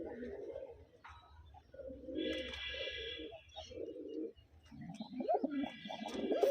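Adult breeding pigeons kept for eggs and chicks coo in low, repeated rolling phrases close by, with occasional higher chirps and fluttery bursts mixed in.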